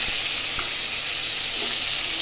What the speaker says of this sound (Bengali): রসুন কালো জিরা ভাজা হচ্ছে